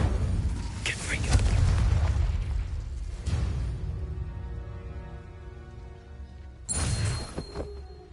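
A Confringo spell blast from Hogwarts Legacy bursts with a loud, booming explosion at the start, followed by a second sharp hit and a lingering magical ring, then another bright crackling burst later.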